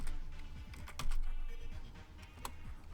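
Rapid typing on a computer keyboard, with quick clustered clicks and a few sharper keystrokes, fairly close and steady throughout.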